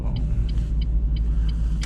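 Smooth, steady low engine rumble of a car on a cold, snowy night drive uphill, with faint regular ticking pulses riding over the drone.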